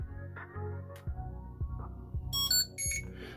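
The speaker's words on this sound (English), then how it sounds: "you're going to hear the little beeping song" A Yuneec Breeze 4K drone plays a short power-on tune of beeps in quick succession, small bright tones rising over a low hum, nearby and fairly quiet.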